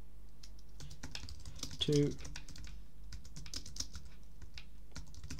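Soft, steady typing on a computer keyboard while entering a prompt, with someone talking briefly over the quiet clatter of keys.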